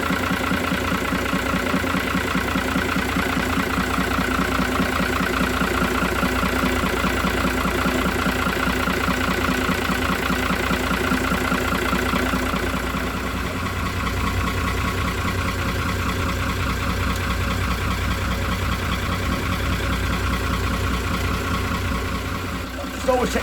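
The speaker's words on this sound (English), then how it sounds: "So back to idle now, idling beautifully." Iveco Aifo marine diesel engine idling steadily, a continuous mid-low drone with a fine rhythmic chug, close and loud throughout with no talk over it.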